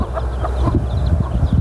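Bantam chickens kept at home cluck in short, repeated bursts close by, their soft calls overlapping against a busy rustling background.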